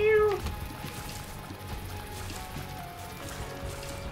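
A cat meows briefly and clearly at the very start, close by, with computer game sounds continuing underneath for the rest.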